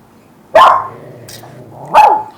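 A dog barks twice, about a second and a half apart. The barks are sharp and close, with a low, drawn-out whining tone held between them.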